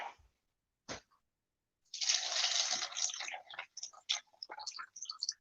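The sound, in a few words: pouring VSOP cognac into a glass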